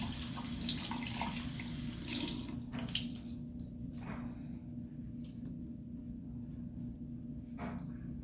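A faucet running steadily into a sink to wet a cleansing sponge, close and continuous, with small splashes and shifts in the flow as the sponge is held under the water.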